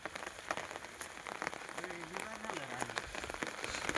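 Steady patter of rain striking a surface in an onion field, with scattered sharper drops and a faint low murmur in the background.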